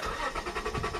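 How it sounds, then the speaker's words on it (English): An Acura CL engine turns over during a compression test, a short burst of rhythmic, pulsing cranking heard up close with no talking. "Once again, start the car."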